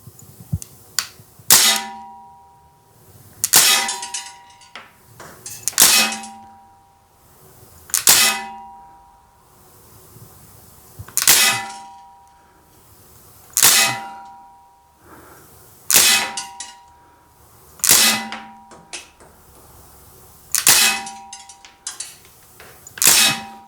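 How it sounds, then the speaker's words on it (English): A Crosman DPMS SBR CO2 blowback BB rifle with a red dot sight fires ten rounds at a target 30 feet away, each shot a sharp crack with a metallic clang, evenly spaced and close. "We're going to put 10 rounds in real quickly here using this red dot"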